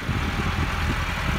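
Massey Ferguson 385 tractor engine idling with a steady low, throbbing rumble, continuous and fairly close, with no talk over it.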